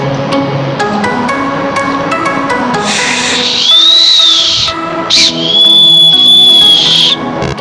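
Someone blows a 1990s candy whistle, a shrill high tone held for about a second, a short blip, then another long held note, after a few seconds of background music.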